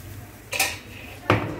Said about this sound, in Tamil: இன்றைக்கி முட்டையை மிக்ஸ் பண்ணுறேன்.